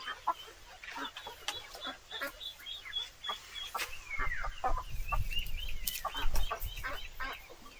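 Hens and chickens cluck repeatedly in a backyard coop while laying eggs, with sharp calls and cackles scattered throughout and a rooster-like squawk, close and moderately loud, with low rustling and movement underneath.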